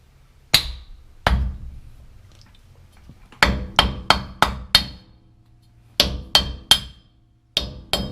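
Sharp metallic hammer blows tap a dust cap onto a Toyota Tacoma axle hub during a CV axle replacement: two isolated strikes, then a quick run of five, a cluster of three, and a final pair, close and loud.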